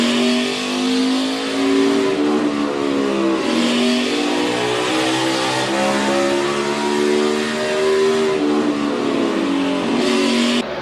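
NASCAR race car engine heard on board during a Richmond race in a racing video game, a loud continuous roar whose pitch climbs and falls repeatedly through shifts and corners, with no talk.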